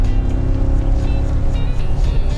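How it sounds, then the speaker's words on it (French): The V8 engine of a 2025 BMW M5, heard from inside the cockpit while driving on the road, a loud, steady, deep rumble that stays constant throughout with no talking. "il est quand même très présent le son de ce V8 dans le cockpit"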